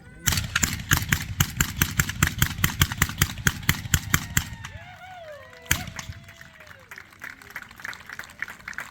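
A Gatling gun fires in a demonstration at a Buffalo Bill Wild West show at Pine Crest Historical Village. A rapid, evenly spaced string of about twenty loud shots lasts roughly four seconds, then tapers off, with one more sharp report shortly after.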